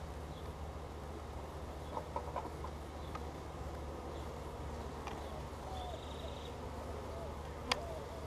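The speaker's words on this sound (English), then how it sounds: "Wow, a lot of bees on that side." Honey bees buzz faintly around a hive full of brood, a soft steady hum with a few brief louder passes of individual bees and occasional small clicks, quiet and close.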